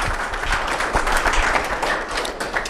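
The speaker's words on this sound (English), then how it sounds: "please give a big round of applause to her" An audience applauds a conference speaker, with a brief burst of dense, steady clapping heard close up.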